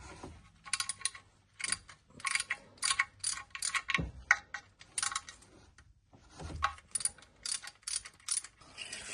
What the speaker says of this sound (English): I'm just going to take all the sump bolts out